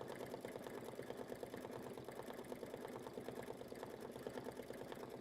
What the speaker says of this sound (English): we have Santa's face stitching